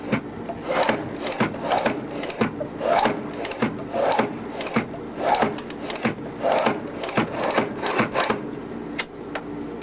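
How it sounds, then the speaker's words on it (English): Oboe reed gouging machine shaving cane, heard as a rhythmic series of scraping, rasping strokes about once a second, close and moderately loud with a faint hum underneath, and no talk. "Then he puts it into the gouging machine."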